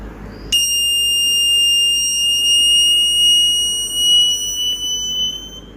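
A continuity tester's electronic buzzer tone starts abruptly and holds steady and fairly loud while a capacitor charges, with no talking over it.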